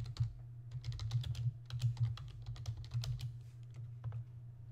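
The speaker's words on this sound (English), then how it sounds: "The next person on my list you're gonna see me typing is Scott Eastwood." Rapid, uneven typing on a computer keyboard, close and clear with a steady low hum beneath, no voices.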